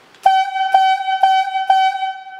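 A logging whistle on a highlead yarding operation gives four short, evenly spaced toots to call the foreman, steady-pitched and piercing, with the last note held slightly longer and no talking.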